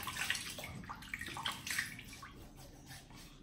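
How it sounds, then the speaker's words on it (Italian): Water splashes softly in a bathroom sink as a face is wetted before shaving, faint irregular splashes and trickles close by with no talk. "ma prima bagniamo come al solito il viso"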